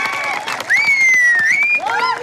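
A crowd at a Congress party campaign meeting in Sirikonda for the Nizamabad parliamentary candidate T. Jeevan Reddy claps in welcome. Dense, steady applause rises, with a high, wavering whistle-like tone carrying over it.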